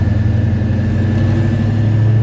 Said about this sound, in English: It's idling a little bit slow, a little low.